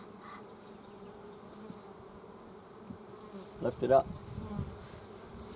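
Honey bees drone steadily from an opened beehive, a close continuous buzz that stays low and even; a person speaks briefly partway through while handling the hive.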